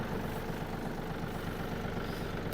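A Yanmar AF-250 Japanese mini tractor engine idles close by, a steady low chugging rumble with an even pulsing rhythm that holds throughout with no talk over it.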